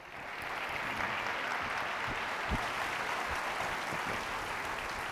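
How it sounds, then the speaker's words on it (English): An audience at a travel technology panel greets an incoming CEO with steady, even applause, moderately loud and unbroken for about five seconds, with no talking over it. "Give a round of applause for Bora."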